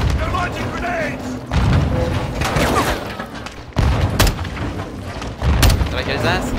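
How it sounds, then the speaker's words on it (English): Grenades go off in a Call of Duty Modern Warfare 2 firefight as several heavy booming blasts, each one sudden and loud, with gunfire and shouted voices between them. "Incoming! Take cover! Oh! They're launching grenades!"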